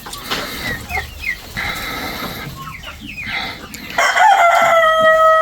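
Adler chickens cluck and call while a rooster crows loudly and close, one long crow building at the end over steady farmyard clucking.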